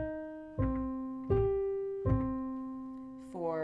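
A Vocalese 1 warm-up in a minor key, given as a short sequence of sustained sung or piano-like pitched notes, three steady tones stepping in turn before a higher rising phrase begins, clear and close.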